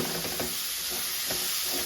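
Carrot and capsicum fry in a pan while being stirred, producing a continuous sizzle broken by a few soft scraping strokes, heard close with no talking.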